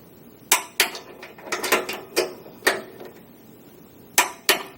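A torque wrench tightens rear bumper swingout bolts on a Toyota 100 Series, giving sharp metallic clicks and ratcheting knocks in short irregular bursts, loud and close.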